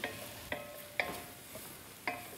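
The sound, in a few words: stirring ratatouille vegetables frying in a pan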